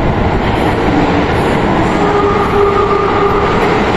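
A loud, close train rumbles steadily as it departs, with faint sustained horn tones sounding above the heavy rolling noise.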